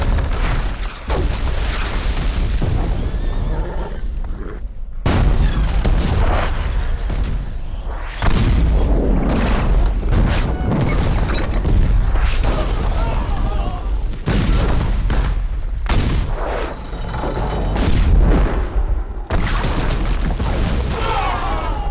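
Volleys of cannon artillery fire from a fort battery in the 2019 Indian historical film Panipat, booming repeatedly in heavy bursts across the clip, layered with dense battle noise.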